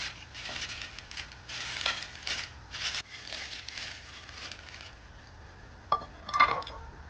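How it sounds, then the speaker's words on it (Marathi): Crisp banana chips dusted with chili powder are tossed in a basket, giving a dry rustling clatter in bursts that fades, followed by a couple of sharper clinks near the end. "यामधली मिरची ना सगळी व्यवस्थित मिक्स व्हावी म्हणून थोडस एका टोकरीमध्ये टाकून छान असं मिक्स करतो"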